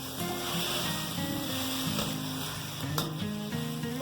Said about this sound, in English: And in goes our shrimp. We're going to cook this shrimp